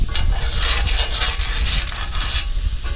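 Cold butter hits a very hot pan and sizzles and crackles loudly at close range, a continuous frying hiss with bursts of spitting.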